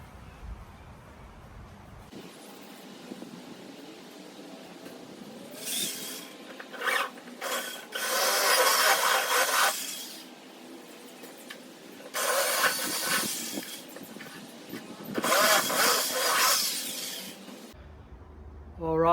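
Power drill boring holes in a VK Brock car boot lid, heard as several close high-pitched whining bursts of a few seconds each, separated by quieter stretches of handling noise, with no talking.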